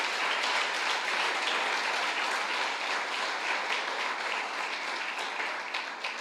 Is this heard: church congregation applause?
yes